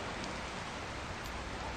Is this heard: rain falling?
yes